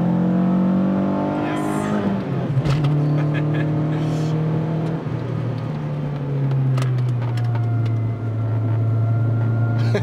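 A Renault Clio 2 RS with a 180 hp naturally aspirated engine in a car weighing about 1000 kg, heard from inside while driving: a loud, continuous engine drone whose pitch rises and falls with the gears, with people talking over it.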